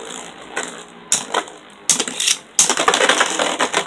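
Beyblade Burst tops, Boom Khalzar against Surge Xcalius, launched into a stadium: sharp metallic clicks and rattling clashes arrive in bursts, growing denser and louder toward the end, close and bright.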